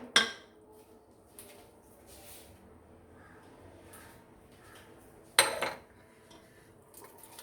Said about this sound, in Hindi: अब इस स्टेज पे हम इसमें शामिल करेंगे अपनी चने की दाल जो हमने बॉईल करके रखी हुई है